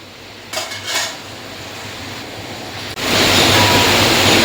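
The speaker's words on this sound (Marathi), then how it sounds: "वांगी बटाटे शिजण्यासाठी पुरेसं पाणी लागणार आहे त्या हिशोबाने आपण पाणी घालून घ्यायचं आहे" Water is poured into a cooking pot of brinjal and potatoes. A brief clatter of the vessel comes first, then a loud, steady rushing pour that continues to the end.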